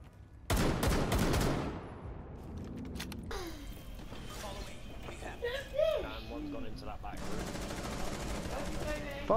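Gunshots in Rainbow Six Siege: a dense, loud burst of rapid automatic fire near the start, then quieter game noise with excited voices talking.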